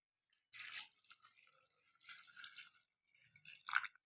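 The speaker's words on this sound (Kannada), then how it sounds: "ಸ್ವಲ್ಪ ನೀರನ್ನು ಆ್ಯಡ್ ಮಾಡ್ಕೋಬೇಕು" Water poured over vegetables in a pressure cooker for sambar, a faint splashing trickle in a few short bursts, quiet and close with no talk.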